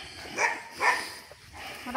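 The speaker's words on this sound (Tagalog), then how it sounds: "Maraming aso." Several dogs at a house bark in a few short, moderately near bursts, with brief quiet gaps between them.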